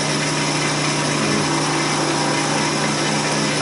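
Hollowing tools cut into spinning wood on a lathe while turning a baby rattle, producing a steady, loud, continuous whirring hiss with a constant motor hum beneath.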